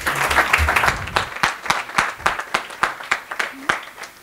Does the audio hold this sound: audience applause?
yes